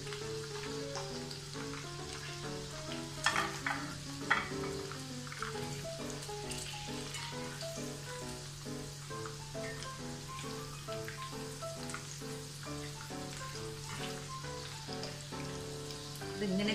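Sweet corn deep-frying in oil for masala corn, a steady crackling bubble with scattered pops under a faint background hum.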